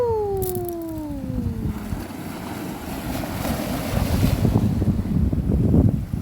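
Waves wash and surge steadily with wind rushing over the microphone, a faint rising tone fading in the first two seconds.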